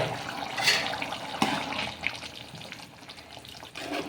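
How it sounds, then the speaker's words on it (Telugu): Potato kurma simmering in a pot on a home stove, a soft bubbling and sizzling with a few louder pops and clinks, fairly quiet and without voices. "ఇంకా ఆలు కుర్మగానే ఉడుకుతుంది"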